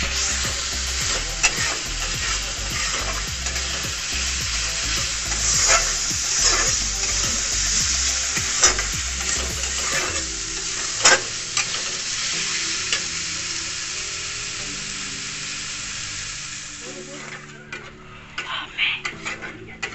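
Spice masala fries in oil while a spatula stirs and scrapes the pan repeatedly, loud rhythmic scrapes and clinks over continuous sizzling, easing into quieter sizzle with scattered taps near the end.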